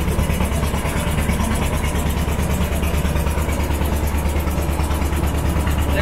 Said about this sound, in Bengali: নৌকাটা স্টার্ট হয়েছে